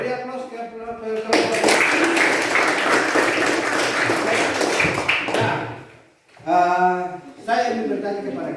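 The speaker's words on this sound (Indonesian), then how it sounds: "Beri aplaus ke kelompok 5" Classroom group applause for a student team, a burst of dense clapping lasting several seconds, framed by speech before and after it.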